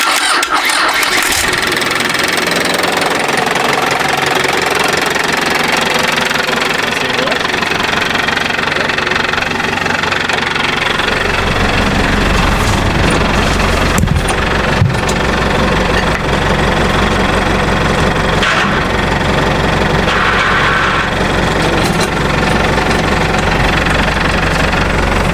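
An army rig truck's engine runs loud and close, a continuous rough diesel rumble with knocking that deepens and grows heavier midway, with occasional clunks and no talk over it.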